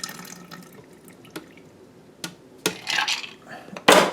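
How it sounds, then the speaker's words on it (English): Iced water pours into a food processor holding dry pizza dough ingredients, with a few faint drips and clinks, then louder splashing pours and a final rush. "then we're going to add the iced water"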